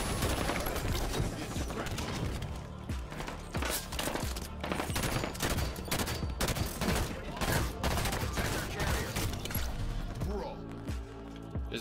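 Rapid bursts of automatic gunfire and shots rattle through a Halo 3 classic multiplayer capture-the-flag match, dense and loud almost continuously, with mechanical clicks between volleys and a player talking over the action.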